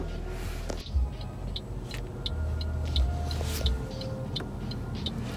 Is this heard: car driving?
yes